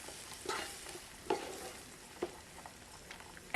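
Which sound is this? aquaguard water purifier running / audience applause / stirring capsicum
stirring capsicum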